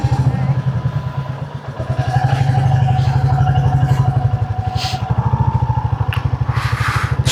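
A motorcycle engine throbs in a steady, rapid low rumble as a ride begins on a highway, loud and close throughout with the pitch rising slightly as it moves off.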